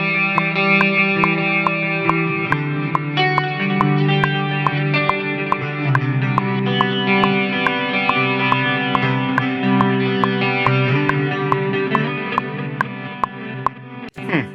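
Electric guitar run through a Qi Etherealizer effects pedal, dreamy lo-fi tones with chorus and echo, played over a loud, steady click track at 140 BPM; sustained chords and picked notes fill the whole stretch without talk.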